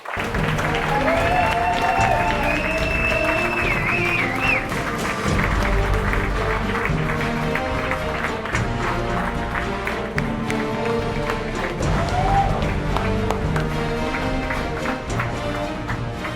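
A live talk-event audience applauds and cheers for the speaker Gaël: steady, dense clapping and crowd noise sustained throughout, with some whistles and voices mixed in.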